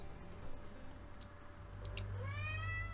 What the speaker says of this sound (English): What are you meowing at me for